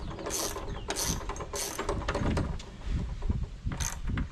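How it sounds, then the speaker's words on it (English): Ratchet with a 4mm Allen key snugging bolts on a Honda Talon 1000R rear windshield bracket, close bursts of quick clicking strokes with brief pauses between them. "Grab our ratchet and our 4mm Allen key here. We just snug these up a bit."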